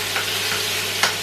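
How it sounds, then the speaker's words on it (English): Ginger frying in a hot pan for sweet and sour pork, a steady close sizzle with faint stirring scrapes, heard alone with no talk. "ginger is frying up nicely."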